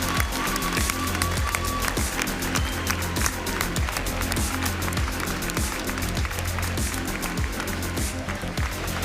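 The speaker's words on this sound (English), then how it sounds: "Please give them a huge big round of applause." An audience gives a loud, dense round of applause for the finalists at the World Chocolate Masters world final, continuous clapping with rhythmic thumping underneath throughout.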